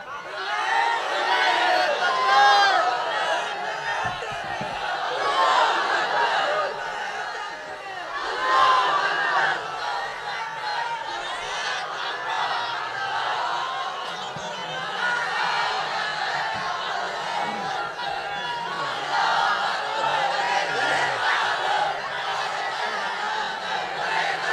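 A large crowd at a religious sermon chants and shouts a slogan, a dense, continuous wash of many voices that swells in waves over about twenty-five seconds.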